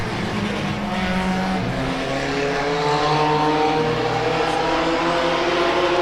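Race cars at Tomah-Sparta Speedway during heat races, engines droning steadily as the pack runs through the corners, with overlapping engine notes rising and falling at a fairly close, loud distance.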